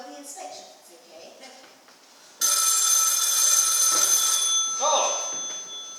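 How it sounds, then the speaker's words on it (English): An old-style telephone bell rings loudly and continuously in a house for a few seconds, cutting in over quieter indoor talk and continuing as a voice speaks. "Oh, that will be the phone."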